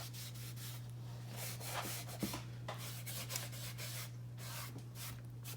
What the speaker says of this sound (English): I like to make sure I get it where it's sanded down to the raw wood too